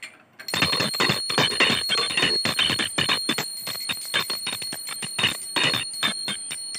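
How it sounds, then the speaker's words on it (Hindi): A bright metallic temple bell rings rapidly and repeatedly, its clangs overlapping into a continuous shimmering peal, close and loud. "घंटी घंटी घंटी"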